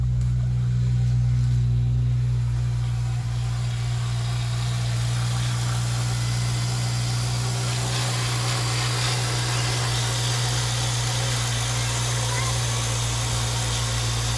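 A 2007 Honda Civic Si engine idles steadily up close, a constant low hum with light mechanical vibration and no voices.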